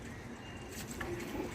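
Domestic pigeons cooing softly at close range while drinking organic green juice, a short low murmuring coo over faint background noise.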